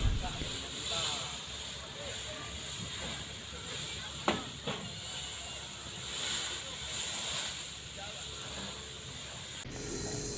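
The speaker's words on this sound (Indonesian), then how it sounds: "Api berkobar dari mobil tangki berisi BBM solar" Steady roaring hiss of a tanker truck carrying diesel fuel burning, with a couple of brief sharp cracks partway through, continuous and fairly distant.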